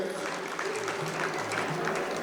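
Audience applause welcoming a chief guest at an annual school function in Sagar, a steady wash of clapping that holds through the whole moment.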